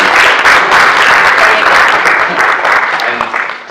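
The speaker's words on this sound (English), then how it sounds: "So please give a round of applause." Sustained applause from an audience at the close of a Los Angeles film festival screening, a dense steady wash of many hands clapping that tapers slightly near the end.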